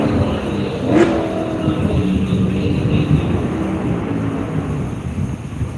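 Race car launching at the Worldwide Technology Raceway, a loud sustained engine roar with a sharp burst near the start, steady and close throughout with no voices.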